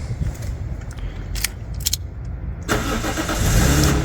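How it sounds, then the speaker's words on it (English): A Lexus IS200 engine starting after an ignition lock and barrel repair: a few faint clicks, then the starter catches and the engine settles into a steady, loud idle close by. "now this should start up the car."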